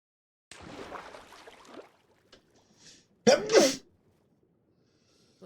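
A single sneeze comes after a stretch of soft breathing, sharp and close, in a quiet room where a live stream is underway, with no talk over it.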